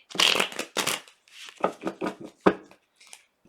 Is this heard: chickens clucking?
no